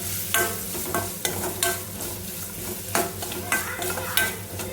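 Coconut rice stirred in a pan with green chili paste and grated coconut, repeated scraping strokes of a spoon at an uneven rhythm over a light sizzle, close up.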